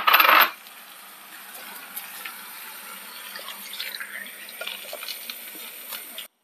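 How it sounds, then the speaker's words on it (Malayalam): Tamarind water is poured into a pot of Kerala sadya-style fish curry, opening with a sharp clink and a burst of liquid, then a faint, steady trickle that fades out. "ബാക്കി നമ്മുടെ ഈ പുളിവെള്ളം ഉണ്ടെങ്കിൽ അത് തന്നെ ഒഴിച്ച്"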